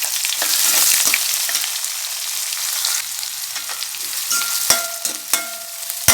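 Onions and chillies sauté in a pan for an okra stir-fry, a steady bright sizzle throughout with occasional stirring scrapes and clicks near the end, no voices.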